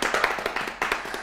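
An audience at a Bishkek couples' game show claps in a brief burst of quick, close, sharp hand claps.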